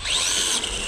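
A high, strained mechanical whine from an RC car's slipping slipper clutch rises and holds for under a second, loud and close with no voices.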